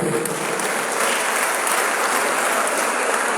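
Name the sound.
audience applause welcoming a guest lecturer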